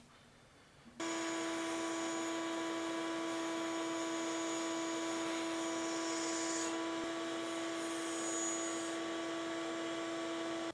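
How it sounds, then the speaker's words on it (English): A bandsaw starts up and then runs with a steady, loud whine and drone while slicing a cork block, holding constant and close with no talking over it. "I'm going to take it to the bandsaw, and we're going to use this as our reference mark to slice this off"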